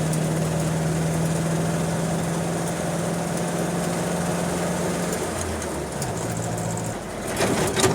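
A 1954 Jeep Willys engine drives down the road, a steady low-pitched drone with a constant hum that shifts slightly near the end, heard alone without talk.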